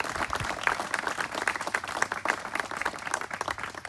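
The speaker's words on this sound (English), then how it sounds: "So let's give IRMA a round of applause." An audience at a racing legends gravesite medallion dedication applauding, a steady patter of many hands clapping at moderate distance, fairly soft overall.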